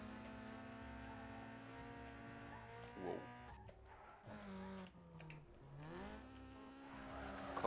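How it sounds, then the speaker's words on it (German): A car drifting in the street-racing video game Need for Speed Underground 2, long squealing tire skids sliding in pitch over a droning engine, loud and close throughout. "Kolossaler Drift"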